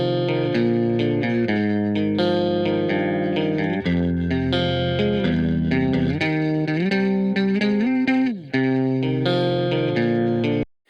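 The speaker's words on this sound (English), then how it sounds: "Now this is a really good guitar sound in my opinion" Recorded electric guitar with a warm, thick, rich tone and some reverb, playing sustained chords and melodic lines continuously, loud and up close, with a brief dropout near the end and no talking.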